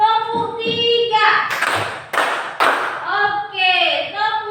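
A classroom of children claps a rhythmic group pattern, three crisp unison claps set amid children's chanting voices before and after.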